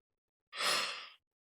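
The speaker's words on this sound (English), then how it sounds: "I'm always recording these when I'm yawning." A single breathy yawn-like exhale, about two-thirds of a second long, close to the microphone and alone in otherwise near silence.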